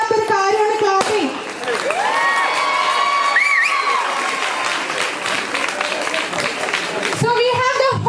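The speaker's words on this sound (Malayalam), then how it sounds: "ഹലോ ബാക്കിലിരിക്കുന്നവർക്ക് ക്ലാപ്പ് ചെയ്യാം കേട്ടോ" A lively student audience at an engineering college event claps and cheers loudly, with whoops and shouting over continuous applause and a microphone voice briefly cutting through.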